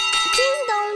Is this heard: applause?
no